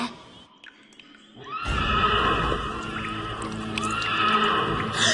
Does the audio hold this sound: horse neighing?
yes